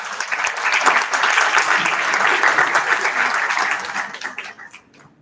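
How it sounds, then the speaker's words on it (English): Audience applause welcoming someone speaker at a commerce school event at XIM University, a loud sustained crowd of clapping that swells early, holds steady, then tapers off near the end. "Praveen Bajpai with a big round of applause."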